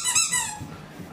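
A squeaky dog toy for French Bulldog puppies gives a sharp, high squeak, loud and close, followed by softer low rustling and movement.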